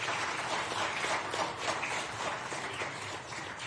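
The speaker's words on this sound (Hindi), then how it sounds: "एक बार जोरदार आप अपने लिए भी तालियां बजाइए।" Continuous broad applause from an audience of Indian and Madhya Pradesh diaspora at an event with the Chief Minister, a steady dense clapping wash that holds at even loudness throughout.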